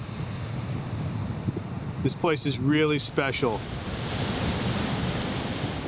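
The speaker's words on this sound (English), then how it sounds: "Look at the waves coming in." Ocean waves roll in near a lighthouse as a steady wind-blown surf wash, with someone speaking briefly over it midway.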